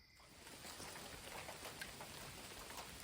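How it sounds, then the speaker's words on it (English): Light rain begins falling outdoors near a chicken coop, a faint steady patter of drops with a soft hiss throughout, distant and even, with no voices. "And it's starting to rain."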